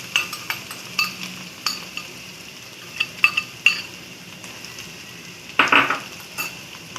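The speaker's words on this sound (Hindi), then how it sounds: "ये दोनों चीज़ें इकट्ठी डालेंगे आप लोग, तो ये इकट्ठी फ्राई हो जाएंगी।" Bitter gourd pieces and their peels frying together in a pan, with a soft background sizzle broken by sharp metallic spatula clinks and scrapes at irregular intervals.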